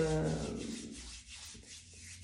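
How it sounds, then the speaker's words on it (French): Bare hands rub against each other in a steady circular motion, giving a soft, close, continuous friction swish that carries on without any talking. "tu vas frotter, donc en mouvement circulaire"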